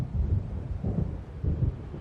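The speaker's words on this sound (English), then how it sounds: "It seems there's a storm coming." Low rumbling thunder of an approaching storm in the video game Alan Wake Remastered, rolling in several deep swells with wind-like noise, fairly loud and without talking.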